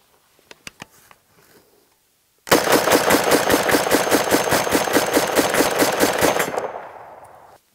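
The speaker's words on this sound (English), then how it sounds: "So we're going to do a little bit of a mag dump with this one." A Springfield Armory Hellion rifle dumps its magazine in one loud, close burst of about four seconds of rapid, evenly spaced shots, after a few quiet clicks and taps of handling, then fades out.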